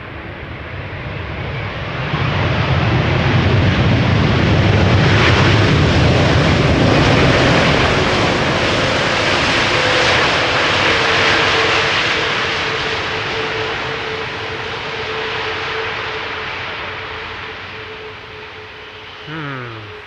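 A four-year-old Airbus A330neo arriving on the Polderbaan runway at Schiphol, its engine roar building to a loud broad rumble overhead and then fading gradually into the distance, with no talking.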